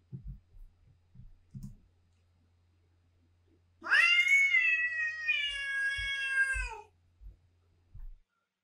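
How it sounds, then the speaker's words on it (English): A long, loud cat meow lasting about three seconds, played back to a real-time audio classification demo running on a Raspberry Pi, preceded and followed by soft low thumps and taps in an otherwise quiet room. "what about some cat mewing?"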